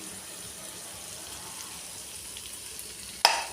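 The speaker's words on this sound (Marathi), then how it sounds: "त्यांना थोडं फ्राय करून घेते मी याच्यामध्ये थोडा वेळ, मग पलटी करेल." Boiled eggs frying in a dry, spiced masala for an egg chutney. A faint, even sizzling hiss continues throughout and ends with one brief sharp clatter.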